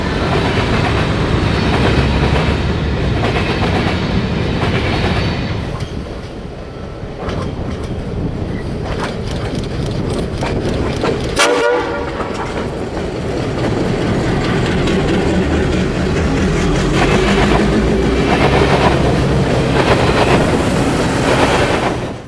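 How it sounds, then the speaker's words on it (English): Freight train led by an AB set of Black Widow F7 diesel locomotives crossing the Santa Fe main line near Stockton, a long, loud rumble with clickety-clack from the wheels and a brief sharp squeal midway. "An AB set of Black Widow F7s lead a freight across the Santa Fe heading for Roseville."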